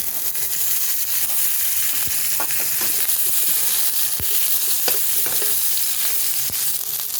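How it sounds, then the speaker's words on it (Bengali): Cauliflower florets and potato pieces fry in hot oil left over from frying fish, giving a steady, loud sizzle with occasional sharp pops and spatters throughout. "ফুলকপি আলুটা ভাজা ভাজা হয়ে গেছে"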